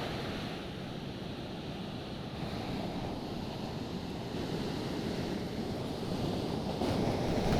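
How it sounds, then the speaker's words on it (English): Ocean waves crest at a beach while an offshore wind blows their tops back, making a steady, close roar of surf and wind noise throughout, with no talking. "see how the tops of the waves are kind of cresting over a little bit, and the wind's blowing the top back"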